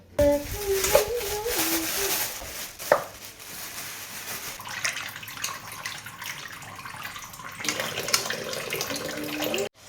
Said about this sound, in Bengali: আমি চিকেনগুলোকে ভালো করে ধুয়ে নেব